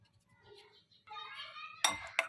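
Mayonnaise and tomato ketchup being mixed in a bowl with a spoon, soft scraping strokes building to a couple of sharp clinks against the bowl, close and quiet, no talk.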